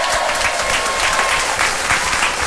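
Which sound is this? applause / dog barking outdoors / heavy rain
applause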